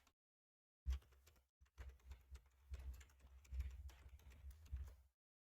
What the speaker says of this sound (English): I'm just going to type out here, pull my keyboard out here.